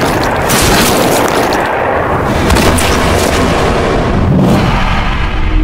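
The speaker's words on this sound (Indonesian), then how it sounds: "si wanita malah menembak Juhun." A gunshot effect from a film, heard as a loud, sustained, booming blast that stays dense and heavy across the whole stretch, with no speech.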